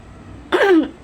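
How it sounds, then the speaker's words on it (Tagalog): A single short cough or throat-clearing, close and fairly loud, in an otherwise quiet moment. "Patong ubo na to, balik-balik."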